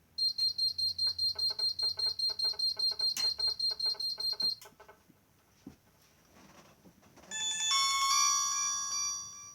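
An electronic phone rings in steady rapid pulses for about four seconds, then after a short pause a different bright, shrill electronic tone sounds, moderately loud in a quiet indoor room beside a fire alarm panel test.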